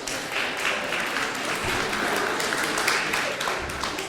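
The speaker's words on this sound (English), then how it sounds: "So could everybody give Geetma a round of applause as well" A student union election results crowd applauds, a steady wash of many hands clapping that fills the whole stretch evenly at moderate level.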